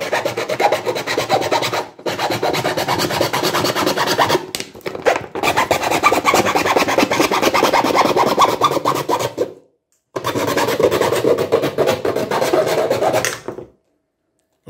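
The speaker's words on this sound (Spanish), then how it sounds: "Vamos a utilizar una hoja de segueta o de sierra y la vamos a cortar" A hacksaw blade cuts the neck off a plastic bottle with close, loud, raspy back-and-forth strokes in steady runs, broken by short pauses before it stops.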